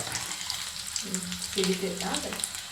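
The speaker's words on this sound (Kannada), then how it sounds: "ಬೆಳ್ಳುಳ್ಳಿ 4-8 ಎಸಳು ಬೆಳ್ಳುಳ್ಳಿ ಚಟಪಟ ಮಾಡ್ಕೊಂಡು ಆಮೇಲೆ ಕುಟ್ಟಿದಂಥ ಖಾರ" Garlic cloves with cumin and mustard seeds, then ground chili, spluttering and sizzling in hot oil for a dill and toor dal stir-fry, close, a continuous crackle with a voice murmuring over it.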